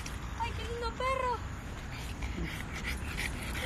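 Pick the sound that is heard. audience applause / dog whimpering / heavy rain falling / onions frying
dog whimpering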